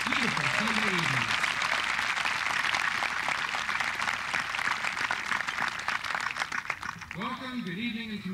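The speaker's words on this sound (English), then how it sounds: "a warm round of applause for their efforts on this beautiful Sunday evening" Sustained audience applause fills a Chillicothe High School graduation ceremony for the class of 2002, steady dense clapping throughout, with a voice talking over it at the start and again near the end.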